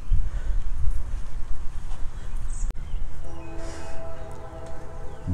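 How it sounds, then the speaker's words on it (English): Train passing behind an outdoor literary park in Hopkinsville: a low rumble with a sharp click, then a sustained tonal horn-like note rising over the rumble in the second half. "With a train in the background, as it would be in Arthur's time."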